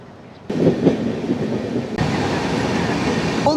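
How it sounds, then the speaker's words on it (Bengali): A passenger train running shortly after pulling out of Guwahati station in the early morning, with a loud steady rumble of wheels and carriages that surges in after a brief quieter start and continues without pause. "অবশেষে আমাদের ট্রেন ছেড়ে দিল এই গুয়াহাটি স্টেশন থেকে"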